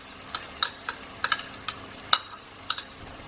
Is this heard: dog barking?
no